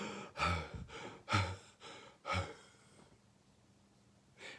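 A voice imitating wheezing: three raspy, labored breaths in quick succession, a pause of near silence, then the start of another breath at the end.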